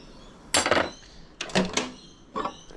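A spoon scraping and clattering around a metal pot of melted soft plastic lure mix, three separate bursts of clanking stirring, close and fairly loud, with quiet gaps between.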